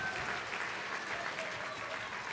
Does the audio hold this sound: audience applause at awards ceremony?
yes